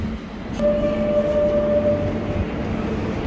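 A metro train rumbles past with a steady rolling drone and a thin high whine, fairly loud and close, without speech.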